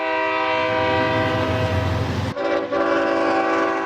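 A BNSF freight train on the main southern line near Belen, New Mexico rumbles past at close range, its horn sounding steadily over the rolling clatter before the horn abruptly stops and the wheels keep grinding on.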